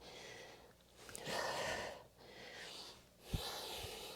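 Heavy, rhythmic breathing from someone doing a core and glutes exercise workout, with several loud breathy inhales and exhales, one sharp snort-like burst, close and alone without talk.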